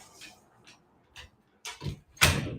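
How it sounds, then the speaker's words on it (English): A door is pushed shut in a storefront with a few light clicks and shuffles before it, then a louder thud and latch near the end, close by. "I'm gonna shut this door so it's not as loud"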